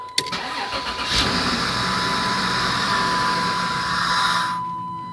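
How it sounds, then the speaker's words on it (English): A 1996 Dodge Grand Caravan's 3.3 V6 engine starts with a crank and catch, then runs at a loud, steady idle, its intake hissing and sucking air through an open inlet with the air duct hose removed, before cutting off abruptly. "The reason it's making that sucking noise is because I've got the intake air duct hose off"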